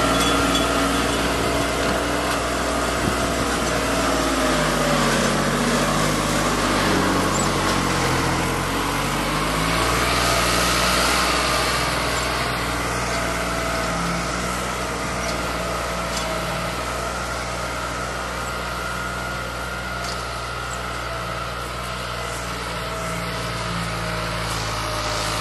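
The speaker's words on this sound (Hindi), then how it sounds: "बहुत ही कहर वाली आवाज है ट्रैक्टर की।" A New Holland 6510 4x4 tractor of 65 hp pulls a heavy two-bottom plough through a field, its diesel engine droning loud and steady throughout with no one speaking.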